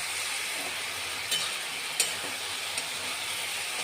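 Masala bhindi (okra) being stirred in a pan with pickle and spices, a steady soft sizzle with a few light spatula clicks and scrapes against the pan, no voices.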